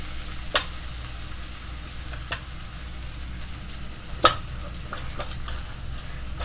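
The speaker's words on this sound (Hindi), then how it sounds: "अदरक लहसुन मिर्चा का पेस्ट डाल देते हैं और अच्छे से इसको चला लेते हैं" Ginger, garlic and chili paste frying and being stirred in a pan on medium heat makes a soft, steady sizzle close by, broken by a few sharp spoon clicks against the metal.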